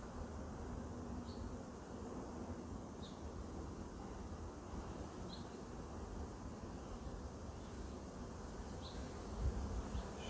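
Honey bees buzz steadily around an opened hive while a frame is searched for the queen, making a soft, continuous hum with a few louder individual passes and no talking.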